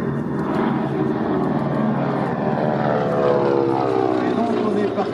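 A Beech 18 propeller airplane engine drones steadily and loudly, a constant throbbing hum with no pauses.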